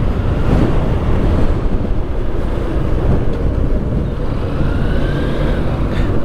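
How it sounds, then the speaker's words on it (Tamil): Strong wind buffets the microphone in a constant roaring rush while a food delivery driver rides along a Middle East road, with faint traffic sounds beneath the gusts. "காலங்காத்தாலே சரியான காற்று அடிக்குது."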